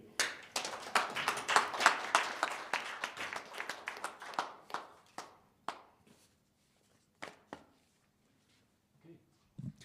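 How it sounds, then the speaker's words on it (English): An audience claps in a burst of applause that fades out over several seconds, leaving a few scattered late claps. "Give another round of applause for Trevor."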